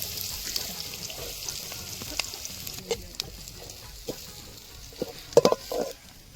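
Onions sizzle in a hot pan in an outdoor village kitchen, with steady frying hiss and scattered scrapes and clacks of a spoon stirring, growing busier near the end.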